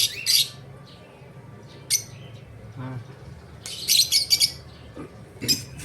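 Eurasian tree sparrows chirp outdoors during a chili harvest. Sharp, bright tweets come in several separate bursts, some in quick clusters, over quiet background with a brief low sound between them.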